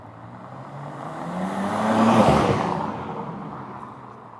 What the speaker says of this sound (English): I think I hear an exhaust, so that might be him.